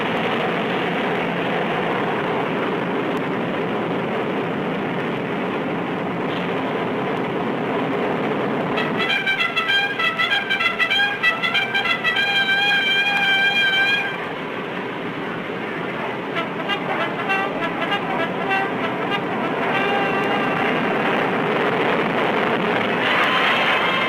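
A Northrop flying wing bomber, a 100-ton aircraft, taking off: a loud, steady engine roar that swells partway through, with tonal whines layered on top, and no talk.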